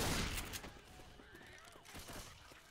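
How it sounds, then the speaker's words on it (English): Gunfire in the zombie shooter Left 4 Dead 2, a loud burst at the start followed by scattered shots and thuds at a moderate level, with distant in-game voices mixed in. "Why do you keep shooting?"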